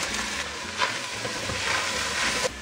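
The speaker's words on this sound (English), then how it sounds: "At the back here I've got the meat beginning to fry. You can hear it hissing" Low fat 10% beef mince frying in a pan for lasagne, a steady broadband hiss and sizzle running throughout with a few brief louder crackles, moderately close and alone with no talking.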